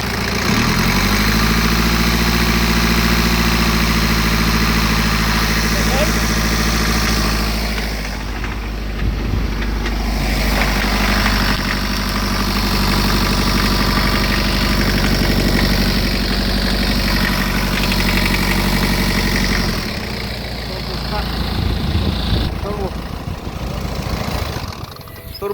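A BMW 1 or 3 Series with the N47 diesel engine idles with a bad turbo, a loud, steady, close rumble that runs the whole time, with a brief shift in tone midway and again near the end. No one speaks.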